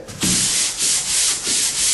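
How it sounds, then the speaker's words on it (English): Steady abrasive sanding from a paddle sander on drywall, a continuous rough rubbing hiss that swells and eases in rhythmic strokes, close by. "Now you blend it in with the sanding."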